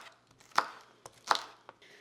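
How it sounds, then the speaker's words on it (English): A knife chops celery on a cutting board in a home kitchen, with a few sparse, sharp chops and soft taps in between. "so I'm just gonna get to chopping."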